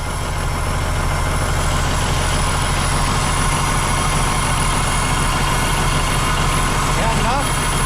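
A Peterbilt 359 diesel engine, restarted after sitting for 20 years, idles in a steady, loud, low rumble with an even throbbing pulse throughout, close by and unbroken.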